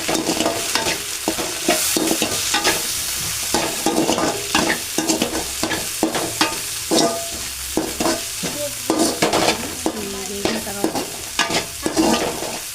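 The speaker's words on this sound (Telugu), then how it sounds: "సోయా సాస్ అలాగే చిల్లీ సాస్ వేసుకోవాలి మంచి స్మెల్ అయితే వచ్చేస్తుంది" Fried rice is stir-fried in a hot pan with soy sauce and chilli sauce: a spatula scrapes and tosses in a quick, irregular rhythm over a constant close sizzle, and no one speaks.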